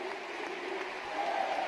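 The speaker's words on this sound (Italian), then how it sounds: "un meraviglioso applauso da parte di tutto il Palafenera per un infortunio che non ci voleva per coach Santarelli" A volleyball arena crowd at the Palafenera applauds an injured player with a steady, distant wash of clapping, even and sustained for the whole short stretch.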